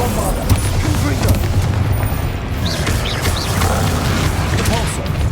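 Bombarda and Confringo explosion spells cast in Hogwarts Legacy, a dense run of booms, cracks and impacts under excited talk amid busy combat noise.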